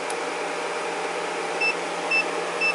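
An Array 3711A electronic load in protection mode gives three short, thin electronic beeps spaced about half a second apart, cutting through a steady broadband fan hiss.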